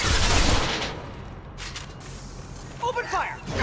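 Gunfire in the Mass Effect 2 video game, a burst of rapid shots up front that fades into scattered cracks, with a voice shouting near the end.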